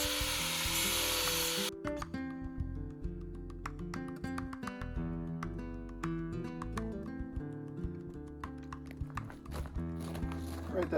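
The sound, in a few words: angle grinder with flap disc beveling Zebrawood guitar body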